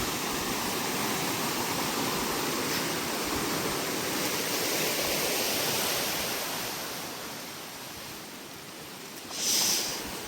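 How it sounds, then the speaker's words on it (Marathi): Rain-swollen stream rushing under a bridge in the Konkan countryside, a steady loud broadband roar of flowing water that eases slightly near the end, with a brief louder splash surge just before it finishes. "पावसामुळे भरपूर पाणी आलं."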